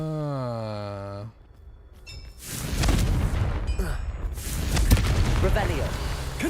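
A Confringo fire spell blast in the video game Hogwarts Legacy: after a brief voice, a loud, roaring burst erupts and rumbles on with booming, crackling energy for several seconds.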